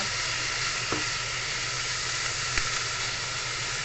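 Pork sautéing in oil gives a constant, close hiss and sizzle with no pauses, broken only by two brief clicks of a utensil against the pan.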